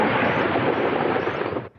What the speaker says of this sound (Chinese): IDF 建国号战机飞过屏东三军联训基地空隙